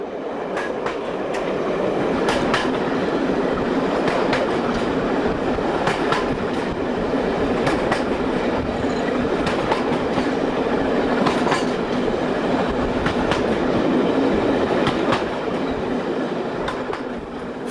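A heritage steam train rolls steadily along the rails, with rhythmic clicks from wheels crossing track joints over a continuous loud rumble.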